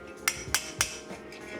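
Three close, crisp taps of a light hammer on a copper cuff bracelet, evenly spaced and ringing briefly, followed by fainter softer knocks.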